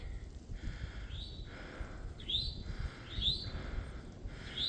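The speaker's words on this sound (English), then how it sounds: "I don't know what kind of bird that is." A black crested bird with white belly and red under its wings calls in repeated rising chirps, about one per second, over steady rain and wind hiss in the Grayson Highlands.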